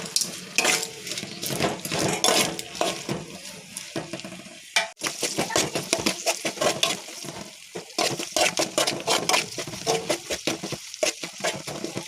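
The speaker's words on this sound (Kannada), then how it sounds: "ಈರುಳ್ಳಿ ಚೆನ್ನಾಗಿ ಫ್ರೈ ಆಗಿದೆ" Onions frying in a pan with salt for Karnataka mango rice, stirred continuously, with a steady sizzle and frequent scraping and clinking of a spoon against the metal pan, close and moderately loud, with no talking.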